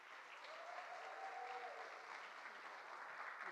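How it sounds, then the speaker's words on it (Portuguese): Audience applause at the opening of a Rio de Janeiro creativity event, a steady wash of clapping heard from a distance, sustained and even throughout with no talk. "para ela receber um grande aplauso"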